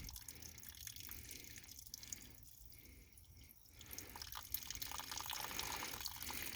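A homemade ram pump runs with its drive pipe set at about 22 inches of head, giving steady trickling and dripping water that continues alone at a moderate, close level.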